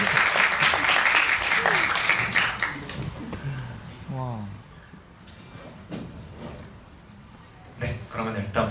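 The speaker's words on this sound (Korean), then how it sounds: "조금 더 큰 박수로 한 번만 부탁드립니다" A cinema audience at a film screening Q&A claps loudly for an arriving actor, dense sustained applause that thins out midway, with a host speaking over it.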